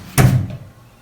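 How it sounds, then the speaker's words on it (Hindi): A door in a family home is shut with one loud, close thud that fades out over about half a second. "दरवाजा बंद"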